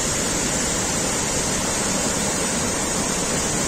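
A Norwegian waterfall roars as a dense, steady broadband wash of falling water, loud and close throughout with no voices.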